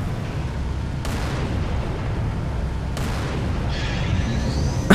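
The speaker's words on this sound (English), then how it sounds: "Fucking tank rounds are phasing right through the Phantom." Tank rounds strike a Phantom dropship in the video game Halo 3, with two sudden booming impacts a couple of seconds apart cutting through a loud, constant roar of battle noise.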